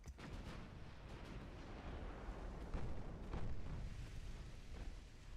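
Naval secondary guns firing in Ultimate Admiral Dreadnoughts, a dense run of loud booms and cracks close together, heavy rumbling bursts layered over one another with no gaps across the whole stretch.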